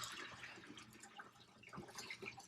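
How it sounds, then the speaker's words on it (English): Water gently poured from a 2-gallon bucket into a 5-gallon floating hydroponic tank, a continuous close splashing and trickling wash with no talk. "I've got a 2-gallon bucket here full of water. I'm just going to gently pour that in there."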